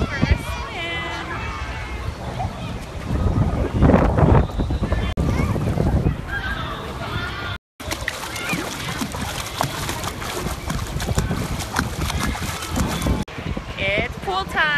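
Strong wind buffets the microphone in gusty roars at a Las Vegas rooftop pool, with water splashing and people talking intermittently underneath, briefly cutting out midway.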